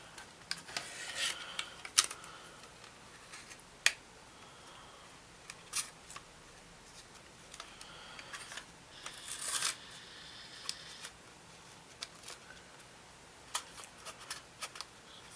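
Masking tape cut into small pieces while building a Revell 1/72 Halifax Mk.III model kit, heard as quiet scattered snips, crinkles and rubbing sounds, close and faint, with no talk.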